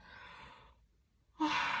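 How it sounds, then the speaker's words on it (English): A person yawns with a long, breathy exhale that trails off, a short silence, then a sharper breathy intake, close and alone. "then I'm yawning"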